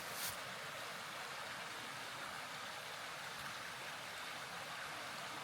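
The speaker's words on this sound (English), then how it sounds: "And the stream is on down this way." A small stream below a trail shelter on the Appalachian Trail gives a faint, even rushing hiss of running water that holds steady throughout, with no voices.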